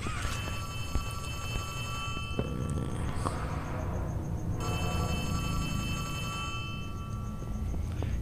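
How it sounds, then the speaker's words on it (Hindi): Telephone ringing inside a Poppy Playtime game scene, a steady repeating electronic ring with high tonal bursts that runs through the whole stretch and pauses briefly midway, over a low background hum. "अबे ये टेलीफोन है भाई"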